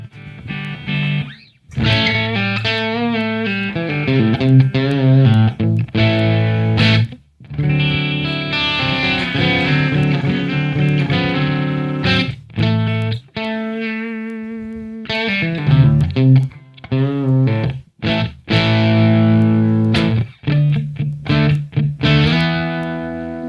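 Electric guitar played through a Headrush Plexi Clean amp profile modeled on a 1966 Marshall, sustained chords and single notes with brief breaks, loud and close, with no talk.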